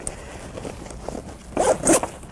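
The zipper on the main compartment of an AMP bag is pulled in quick, close, scratchy zips, growing louder toward the end, with no voices.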